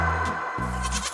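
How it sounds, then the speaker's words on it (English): A goat bleats twice in quick succession, loud and close, each call a wavering nasal cry with no talk around it. "G for goat."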